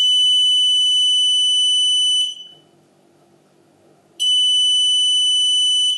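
Loud high-pitched electronic buzzer signalling the Mach3 index pulse on a CNC machine, sounding continuously, cutting out for about two seconds, then returning just as loud.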